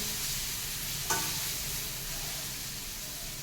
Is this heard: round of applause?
no